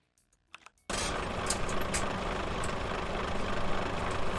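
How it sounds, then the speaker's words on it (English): Truck engine idling in Euro Truck Simulator 2, a steady broadband rumble that starts abruptly after a few faint clicks and holds constant, close and even. "Turn the engine off."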